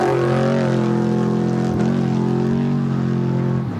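A Class 1 trophy truck, the 40T entry, launches off the line at a SCORE Baja 500 qualifier, its engine a loud, sustained harmonic roar that holds steady for several seconds, close and dominant with no talk over it.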